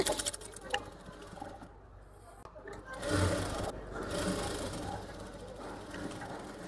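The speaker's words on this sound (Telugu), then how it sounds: "ఇలా డబల్ ఫోల్డింగ్ వేసుకొని ఇక్కడ నుంచి ఇలా స్టిచ్ వేసుకోవాలి" A sewing machine stitches along a double-folded blouse edge, a fairly quiet, close mechanical whir that starts partway through and runs steadily to the end, with faint background noise and no clear speech.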